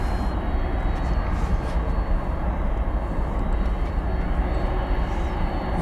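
A Boeing 767 airliner at DFW Airport roars with a broad, steady jet engine rumble, loud and sustained over the whole stretch.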